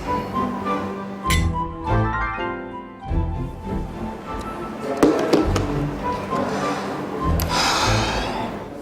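Glasses clink together in a toast at a drama scene, a few bright chinks standing out over a busy background of music and room noise, with no talk during the clinks.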